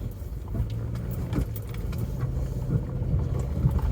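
A car creeps slowly up onto a freshly built dirt house pad on a rural homesite, a low steady engine rumble with gravel crunching under the tires, close and continuous, no voices.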